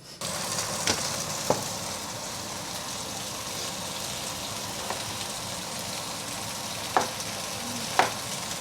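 Potatoes and chicken wings sizzling in a hot pan with turmeric, a steady frying hiss broken by a few sharp pops and spatters, close and with no talking.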